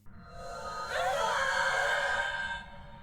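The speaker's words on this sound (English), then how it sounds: "One of the most clearly identifying features of the Banshee is its ability to produce a unique scream sound" Eerie ghostly scream of the Banshee from Phasmophobia, a drawn-out wavering wail that swells in suddenly, holds for over a second, then fades.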